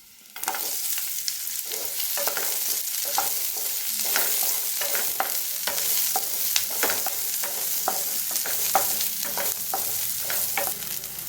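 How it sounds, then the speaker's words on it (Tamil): Garlic and onion sauté in hot oil for a tomato chutney, a steady dense sizzle broken by repeated scraping stirs from a spoon, close and fairly loud with no talking. "எண்ணெய் சூடானதும் பூண்டு, ஒரு 30 செகண்ட்ஸ் நல்லா வதக்கிக்கோங்க பூண்டு சேர்த்து."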